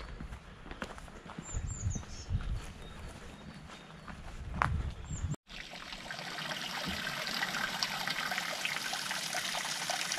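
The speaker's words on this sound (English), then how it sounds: "It's got a lovely flow of water going down some stairs." Overflow water from the Chesterfield Canal pouring down a flight of stone steps beside a towpath bridge, a steady, close rushing flow that grows fuller and louder partway through after a brief dropout.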